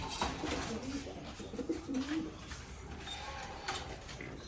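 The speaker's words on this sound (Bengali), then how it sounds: "এটা হচ্ছে নর কবুতর" Racing pigeons cooing close by in a loft in low, rolling repeated calls, with some faint shuffling and background noise around them.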